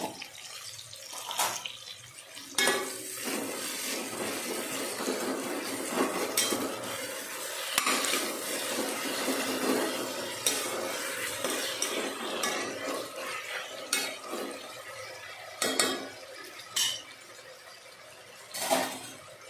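Salted onions stir-fry in a pan for chicken palava, with close spoon scraping and clattering against the pan over a steady hiss; no voices.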